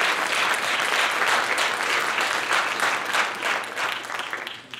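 Audience applauding at a spring piano and guitar recital, dense steady clapping that holds for several seconds and tapers off at the end.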